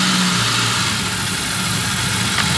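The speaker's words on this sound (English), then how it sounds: "So it's going, the idling is very rough right now." A 1999–2009 SAAB 9-5 engine idling roughly with its brake booster vacuum pipe popped off, a steady, close, uneven mechanical drone with a low hum running throughout and no talking.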